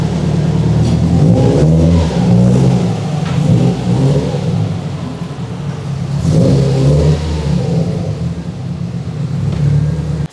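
A Subaru STi engine revs on a dyno in a shop, loud throaty pulls that climb and fall twice, with a deep rumbling idle between runs.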